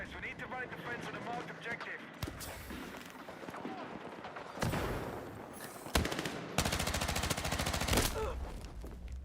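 Shotgun gunfire in the Battlefield video game, several loud blasts amid rapid gunfire bursts and game noise, with a voice talking over it.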